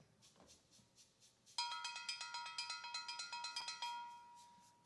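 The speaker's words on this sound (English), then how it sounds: "When you play on this with drumsticks," A car brake drum used as a steel band percussion instrument is struck with drumsticks in a steady, ringing metallic pattern of about a dozen bright clanks, loud and close, following a second of quiet room murmur.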